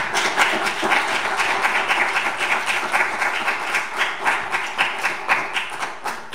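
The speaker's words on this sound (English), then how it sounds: "Can you just give God a big round of applause?" Church congregation applauding and clapping steadily throughout, a dense, loud wash of many hands with sharper individual claps standing out, no talking.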